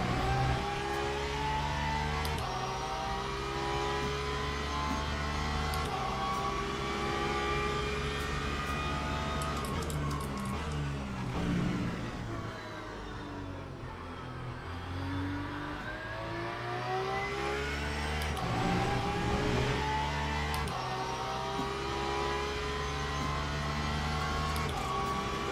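A Porsche race car in the Le Mans Ultimate racing game runs at high revs, its engine note climbing and falling through gear changes and dipping briefly mid-lap, loud and steady with no voices over it.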